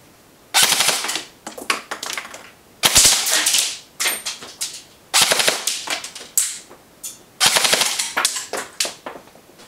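A Smith & Wesson M&P 15 carbine airsoft electric rifle fires full-auto bursts of rapid mechanical clacks, roughly eleven or twelve shots a second, in several loud close strings separated by short pauses.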